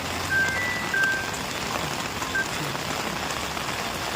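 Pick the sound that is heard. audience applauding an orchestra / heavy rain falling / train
heavy rain falling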